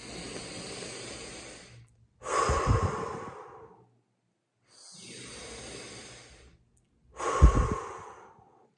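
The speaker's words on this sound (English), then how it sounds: "3 big deep breaths. Inhale, inhale, inhale. Fill your chest, your rib cage up with air, and exhale it out." Three deep breaths, each a long drawn inhale followed by a heavy, forceful exhale, close and loud with silent gaps between them and no talking.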